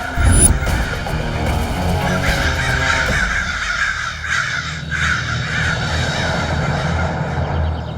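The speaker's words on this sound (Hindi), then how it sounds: "शुक्र है ऊपर वाले का कि उन काले कौवे से हमारी जान बच गई।" Black crows caw loudly and repeatedly in a dense, overlapping chorus that carries through the whole stretch over a busy, noisy background, with no speech.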